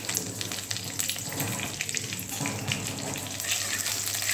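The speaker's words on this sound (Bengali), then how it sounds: "দেখো কারি পাতা দেওয়া হয়েছে, আর এরপরে সর্ষে ফোড়ন দেওয়া হচ্ছে।" Curry leaves and mustard seeds sizzling in hot oil in a pan while cooking breakfast, a steady close crackle and hiss with faint popping throughout.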